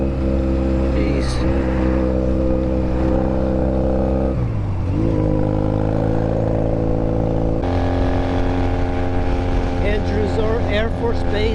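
A Honda Rebel motorcycle engine hums loudly and steadily while riding a bumpy road, its pitch dropping once and then climbing again as the throttle opens, with wind buffeting over the microphone.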